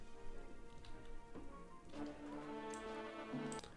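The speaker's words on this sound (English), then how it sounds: "Yes, it's rain." Rain weather effect from the C3 Augustus city-building game: a steady, moderate patter of rainfall running throughout, layered with tonal in-game sounds and no talking.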